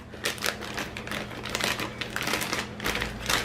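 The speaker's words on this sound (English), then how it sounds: "you're going to get the filling and put it inside the Ziploc bag" A gallon Ziploc plastic bag crinkles and rustles up close as manicotti filling of cheese and pumpkin is spooned inside, a busy run of crackling bursts with no talking.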